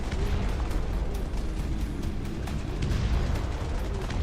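Incendiary bombing in the real-time strategy game Dustfront RTS: a dense, continuous roar of booms and crackling bursts, loud and rumbling throughout with no pauses.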